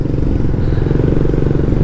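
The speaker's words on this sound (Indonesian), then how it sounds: "Wah, ini motor mogok." A broken-down motorcycle, heard as a steady low rumbling engine-like drone with clattering texture, loud and continuous throughout.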